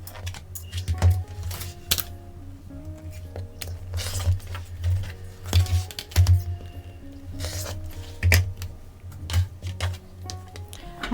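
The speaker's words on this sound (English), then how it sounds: "I'm now going to remove the pins and then cut along the drawn line." Pins are pulled and fabric is cut along a drawn line while piecing a Jack in the Box quilt block: scattered sharp clicks and snips close by, irregularly spaced, over a steady low hum, with no talking.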